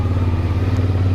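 A CFMOTO 450SS motorcycle idles with a steady low engine throb while being paddle walked across gravel, a faint crunch barely standing out beneath the close, continuous engine note.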